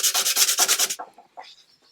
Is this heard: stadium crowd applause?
no